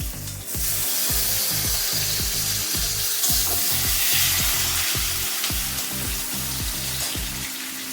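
Onion and tomato sizzle and fry in a hot pan, a loud, continuous hiss with rhythmic scraping knocks from stirring, close up, with no talking.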